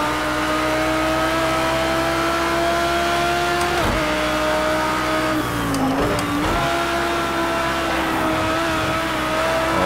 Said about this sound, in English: Yeah, this is a race car.